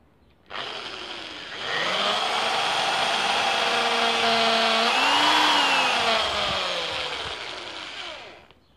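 A power drill whines steadily as it bores into a wooden log for a dowel, starting abruptly, rising in pitch and load, then straining and dipping as the bit clogs before winding down, loud and close.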